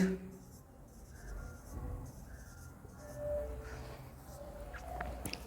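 A pen scratches across paper in short, faint strokes during a class lesson, quiet and close, while a teacher talks intermittently over the writing.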